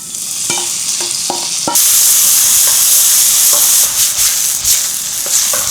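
Kimchi fries in hot oil in a pan with a loud, steady sizzle and hiss that swells after a few stirring clicks, close and continuous with no voices.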